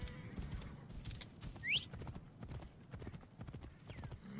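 Horse hooves clip-clop steadily at a riding pace in Assassin's Creed Origins, a continuous low patter of hoofbeats close by with a brief whinny-like chirp partway through and faint ambient game sounds.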